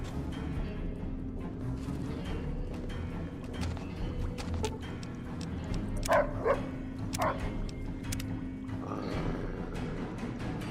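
A dog in a video game barks, yips and whimpers in short bursts over a steady background hum, with a cluster of sharper yelps near the middle.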